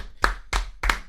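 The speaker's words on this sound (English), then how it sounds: "Round of applause for" Three crisp hand claps in a steady, even rhythm, close and fairly loud, from a single person.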